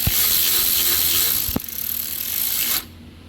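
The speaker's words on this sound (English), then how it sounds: "Use the 10mm socket. Go till it gets snug, not over tightening." A ratchet fitted with a 10mm socket tightens the carburetor nuts on a Kohler engine's dual-barrel carburetor, giving a close, loud, rapid stream of clicking with a brief break midway before it stops and leaves near silence.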